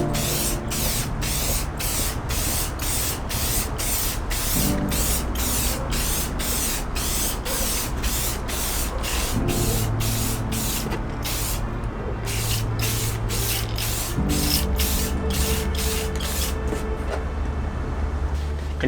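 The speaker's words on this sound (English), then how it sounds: "Now I'm just going to give it a few coats of the satin clear guard." Satin clear coat is sprayed onto a hydro-dipped item in repeated bursts, a loud steady hiss broken by regular short pulses with brief pauses between passes.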